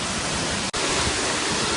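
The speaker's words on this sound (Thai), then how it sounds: "น้ำตกที่แรงมากแล้วก็ ตกกระแทกหินดังคลื่นคลื่นนะครับ" Powerful waterfall in Thailand's Tat Fan area plunging hard onto rocks below, a steady, loud broadband roar close by, alone without voices, broken only by a momentary dropout near the middle.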